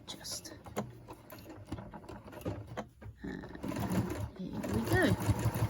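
A sewing machine stitching quilt binding at a corner: short bursts of close mechanical whirring and needle stitching, with a brief pause in the middle, then steadier running.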